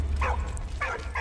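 A dog in the video game Valiant Hearts gives three short barks with whimpering edges, evenly spaced over a steady low rumble, with no talk.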